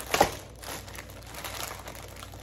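A sharp burst of plastic crinkling up close, then softer rustling and crackling as a plastic vacuum compression bag is handled.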